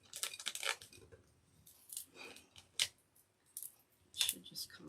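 Ground layer being peeled back off an etching plate, eased along with a small spatula: several short dry crackling, tearing bursts come close and clear, separated by quiet pauses.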